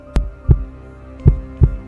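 A deep, booming heartbeat sound effect, its thumps arriving in two paired lub-dub beats over a low steady hum, loud and close.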